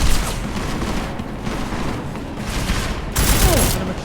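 Rapid gunfire in the video game Warframe, a dense continuous fusillade of shots that swells louder toward the end, with no talking over it.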